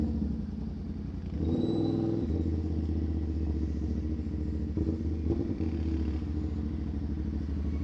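A motorcycle engine with a new aftermarket exhaust idles with a deep, throaty exhaust burble, briefly rising in a short rev before settling back to a steady rumble.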